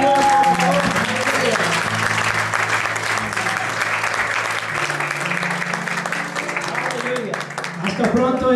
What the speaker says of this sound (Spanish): Un aplauso más al Señor.